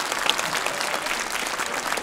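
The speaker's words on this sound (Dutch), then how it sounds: "Heel hartelijk applaus." A young audience at a children's university lecture on language gives warm, steady applause, dense and continuous throughout the short stretch.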